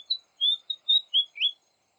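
A fantail flycatcher sings a short run of bright, high whistled notes, six quick phrases rising and falling, clear and close against silence.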